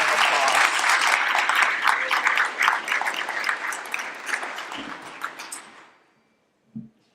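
Sustained applause from a school-event audience for board members, steady and full for several seconds before fading out, with a faint thump at the end.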